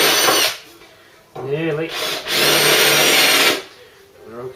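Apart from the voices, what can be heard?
power drill drilling off heads on car mount plate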